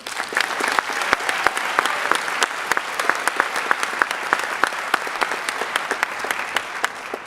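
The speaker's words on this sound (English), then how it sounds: "Can we get one round of applause for Mrs. Johnson?" Steady applause from an audience at a high school underclassmen awards ceremony, dense clapping sustained evenly throughout without interruption.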